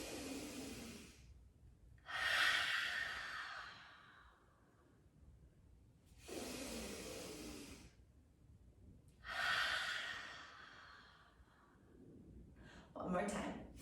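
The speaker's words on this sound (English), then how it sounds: "Here we go, deep breath in." Deep breaths in and out during a kids' yoga session, several long, airy inhales and exhales in a slow, even rhythm, close and fairly quiet with pauses between them.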